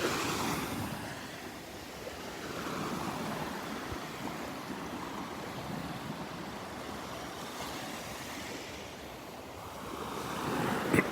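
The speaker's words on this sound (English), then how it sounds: "Just getting some nice little waves rolling in here." Small ocean waves roll onto a Gulf beach at Delnor-Wiggins on a morning walk, a steady moderate wash of surf with soft swells and some wind rumble, no talking.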